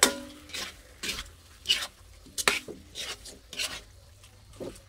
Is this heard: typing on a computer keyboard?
no